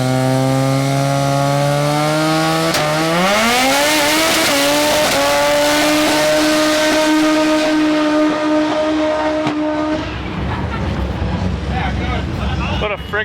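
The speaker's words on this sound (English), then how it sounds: "What a friggin' burnout that was." A drag race car does a burnout, its engine revving loud and rising in pitch over a long sustained howl, then cutting back as tire noise and crowd rumble take over.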